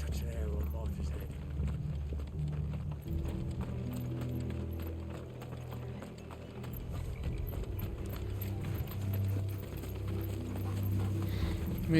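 Horses galloping in Final Fantasy XVI, a steady rumbling clip-clop of hooves with a voice speaking over it and game music beneath.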